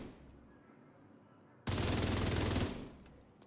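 A video game weapon firing at targets: a rapid, loud burst of fire that starts abruptly after a quiet stretch, lasts about a second, then cuts off and fades.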